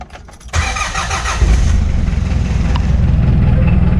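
A car engine starts: a brief starter crank is followed by the engine catching and settling into a loud, steady idle nearby.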